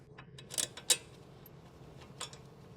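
Ratchet driving a brake line bracket bolt on a Honda Civic during strut assembly installation, a few quick metallic clicks and ticks in short bursts over a quiet workshop background.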